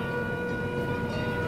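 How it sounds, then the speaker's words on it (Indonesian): A train runs alongside a large floating mosque with a lakeside setting in Bandung, giving a steady, continuous rumble with sustained tonal whine throughout, moderately close and without talk. "ada kereta api di samping masjid"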